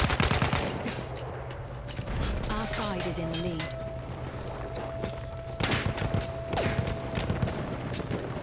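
Gunfire in Battlefield 1 during a Team Deathmatch at Fao Fortress: rapid bursts of automatic shots and sharp single cracks, close and loud, with a player talking over the shooting and a steady tone in the background.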